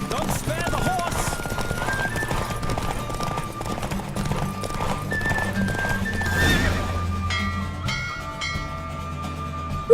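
A galloping horse in The Witcher 3 game thuds along continuously with a brief whinny mixed among the hoofbeats, set against dense game music and effects, loud and close.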